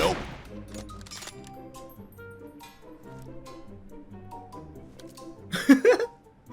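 PUBG Mobile gunfire: a few sharp shots, with a denser burst of rapid fire near the end over in-game music and background tones.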